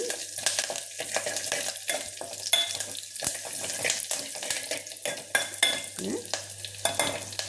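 Curry leaves and dried chillies fry in hot oil for rasam, a steady close crackling sizzle with stirring and small splashy bursts running throughout, no voices.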